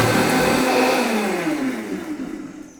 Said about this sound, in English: because that blender was running, there was no splashback